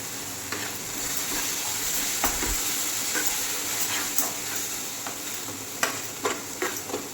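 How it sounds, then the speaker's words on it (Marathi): Cashew paste hitting hot oil in a pan for a soya chunks curry, a steady loud sizzle with intermittent scraping stirs and clinks of the spoon. "मग आता तेल सुटलं आहे. आता आपण काजूची पेस्ट केलेली ती टाकू."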